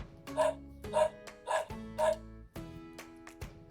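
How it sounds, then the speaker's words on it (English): A dog barks four times in an even rhythm, each bark loud and close, followed by a quieter stretch and a last short sound, with no talking. "a dog,"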